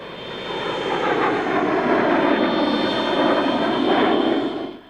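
A de Havilland Venom jet aircraft of the early RAF passes with a loud, sustained engine roar and a high whine, then fades out at the end.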